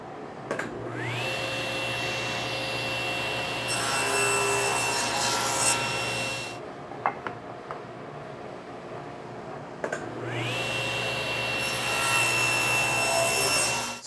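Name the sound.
sawing wooden rail pieces for cabinet doors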